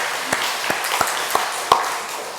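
A church congregation claps in praise during a Korean Sunday worship service, sparse separate claps with a few louder peaks rather than dense applause, moderately loud in a reverberant hall.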